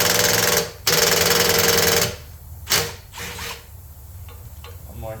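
A wrench works a 10 mm nut loose from the carburetor of a Craftsman 3100 pressure washer, heard up close as a loud, continuous mechanical rasp for about two seconds, followed by a few shorter, fainter bursts.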